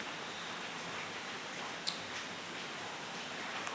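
Heavy rain falls outside during a dark, stormy evening, a steady, soft hiss that stays even throughout with a couple of faint ticks and no voices.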